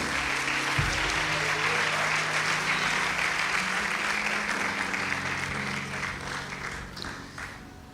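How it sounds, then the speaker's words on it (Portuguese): A church congregation applauds Jesus after a sermon, sustained clapping filling the room and slowly tapering off over several seconds, with a low organ or keyboard tone held underneath. "Pode se assentar aplaudindo a Jesus por essa palavra poderosa."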